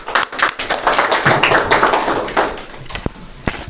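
A church congregation at a Sunday evening service claps together in a loud, fast burst of many hands that thins out into a few scattered claps near the end.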